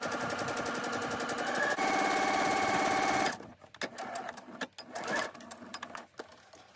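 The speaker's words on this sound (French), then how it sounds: "Et je vais venir coudre tout le long." Sewing machine stitching along aligned fabric pieces for a toothbrush case, running in a steady fast mechanical whir for about three seconds, then stopping, followed by rustling fabric and light clicks.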